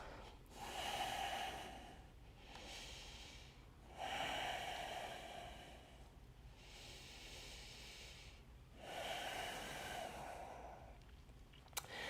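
Slow, deep breaths during a yoga moon salutation: three long airy inhale-exhale cycles with a soft nasal rasp, close and fairly quiet, with no talking.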